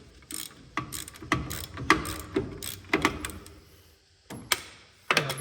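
A ratchet wrench loosens a bolt on a 1968 GMC truck, its pawl clicking in short, loud bursts of rapid ticks with brief pauses between strokes, close up and with no talking.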